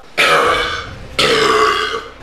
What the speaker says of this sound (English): This whole video is just gonna be burps.